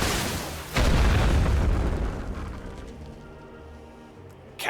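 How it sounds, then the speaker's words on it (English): Explosives detonating in the World War I strategy game The Great War: Western Front, one heavy deep boom that rolls and slowly fades over several seconds, followed by a sharper crack at the end. "Detonate your explosives."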